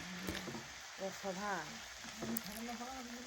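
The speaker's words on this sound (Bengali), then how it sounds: "এক একটা বেগুন আমি এইভাবে দেখুন এপিট এপিট ভালোভাবে লাগিয়ে দেখুন গরম তেলের মধ্যে দিয়ে দিলাম" Eggplant slices for begun puri sizzle as they go into hot oil, making a steady, soft frying hiss close by. Someone talks over the sizzling throughout.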